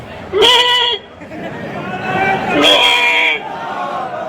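A voice imitates a bleating goat at a protest outside a dargah shrine, two drawn-out wavering "meh" calls, loud and close, with crowd murmur underneath between them.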